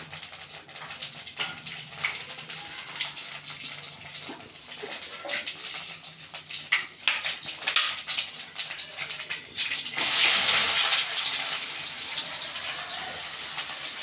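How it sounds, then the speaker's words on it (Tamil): Mustard seeds and fenugreek seeds splutter in hot oil in a kadai for a Tamil fish curry, a dense crackling hiss that rises to a loud steady sizzle partway through, with no talking. "எண்ணெய் சூடாகிடுச்சு, அதனால் கடுகு போட்டோன்னே பொரியுது பாருங்கள்."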